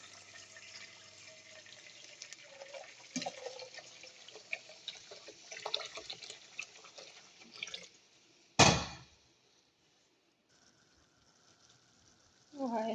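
Boiling water is poured into a pot of hot oil in which onions have been cooked, giving a steady watery rush and splashing that ends with a loud burst of sizzle, followed by quieter bubbling.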